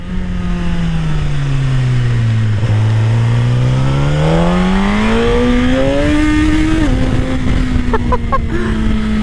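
A powerful Suzuki GSX-R1000 sport motorcycle engine revs up and down through rising and falling pitch, loud and close, with a brief gear change near the end.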